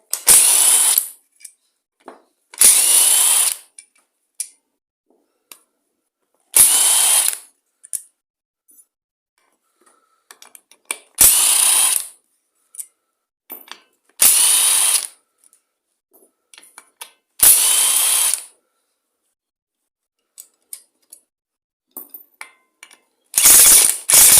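A ratchet wrench backs out a series of 8mm bolts from a failed engine, giving about seven loud bursts of rapid close clicking separated by pauses with small clinks of metal in between.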